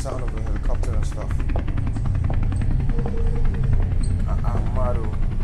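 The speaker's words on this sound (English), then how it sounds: "Sound of a helicopter and stuff." A helicopter's thrumming rotor, part of the soundtrack of a music video, pulses steadily beneath someone talking over it.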